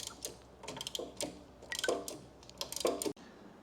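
A wrench turns a 5/8 inch fastener in a run of quick, close metallic ratcheting clicks in short bursts, ending with a sharp stop.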